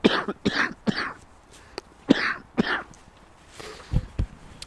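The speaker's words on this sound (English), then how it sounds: "Sorry, coughing." A woman coughs repeatedly in short harsh bursts, close and loud, with brief pauses between coughs and a throat clear near the end.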